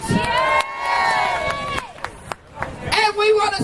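A crowd at a rally to save the Cressingham Gardens council housing estate lets out a loud burst of cheering and whooping, with shouting voices and a little clapping, close and lively.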